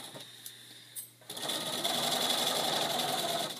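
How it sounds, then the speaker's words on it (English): After a quieter opening with a few small clicks, a sewing machine starts up and runs steadily and loudly, stitching a pillowcase seam with a continuous whirring hum. "I'm going to take a couple of stitches in the beginning here to get this going."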